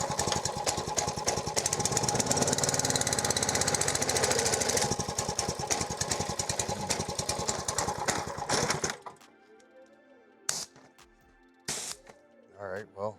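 A Ryobi pressure washer's small engine runs with a loud, rapid, rattling putter for about nine seconds, then cuts out, leaving a few brief sputters and clunks.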